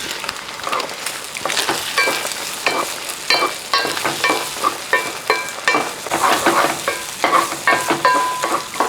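Egg being stirred and scrambled with turmeric in a pan, a steady run of scraping, tapping strokes over a light sizzle, close and moderately loud with no talking.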